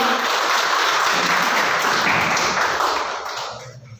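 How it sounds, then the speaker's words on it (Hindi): Applause from a seminar audience of parents and children, a dense, loud wash of clapping that holds steady and then tapers off near the end. "तो तालियां अल्फाबेट के लिए होगा"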